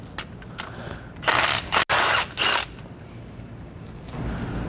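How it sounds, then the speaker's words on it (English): Work on a 2020-or-later GM 2500 truck during a 6.5-inch lift kit install: a tool rattles in short clicking bursts while 13mm bracket bolts come out, with several louder ratcheting spurts in the middle, close and alone. "We're going to start off by taking the bolts out of this bracket here."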